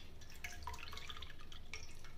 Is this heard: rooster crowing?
no